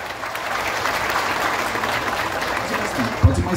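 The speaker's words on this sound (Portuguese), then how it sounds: "Cadê os aplausos, público presente?" Audience applause at a town square festival in Tiros, Minas Gerais, a steady crowd clapping at moderate level, with a brief thump near the end and voices mixed in.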